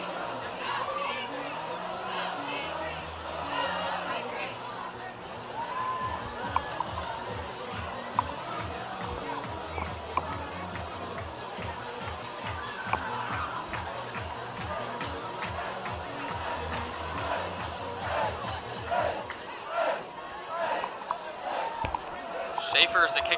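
A high school varsity football home crowd at Pius X cheers and chatters steadily after a touchdown against Scottsbluff, a broad roar with scattered voices and thumps holding at a constant level throughout.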